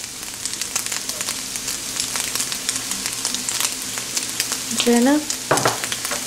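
Vegetable egg fried rice sizzles and hisses steadily in a hot pan while a spatula scrapes and stirs it continuously, close and lively, with a brief squeal of utensil near the end and a short word spoken.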